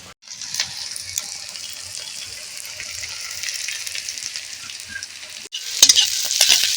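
Potatoes sizzle steadily in a frying pan while a spatula stirs and scrapes them, a continuous close crackle with small clinks, rising briefly louder near the end.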